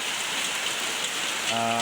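Steady rain falling and pattering on a surface, an even continuous hiss with no talking.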